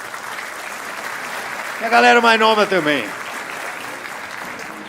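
An audience at a stand-up comedy show bursts into a short round of clapping and cheers, loud and close, lasting about a second, while the comedian keeps talking over it.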